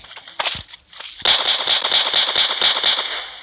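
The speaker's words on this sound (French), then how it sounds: "Et je sors le petit flingue." A small gun from a Minecraft Pocket Edition mod fires a rapid run of about nine sharp, bright shots after a couple of isolated pops, loud and close.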